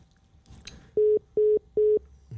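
Telephone line tones on a call: three evenly spaced, identical steady beeps over faint background noise, with no talking.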